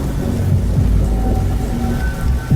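Steady heavy rain pours down, with low rumbles of thunder rolling underneath.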